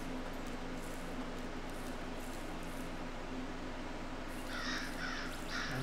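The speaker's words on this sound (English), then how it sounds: "All I hear are crows." Crows caw several times near the end in the video game Zero Sievert, distinct calls rising over a steady low ambient hum and hiss of the game environment.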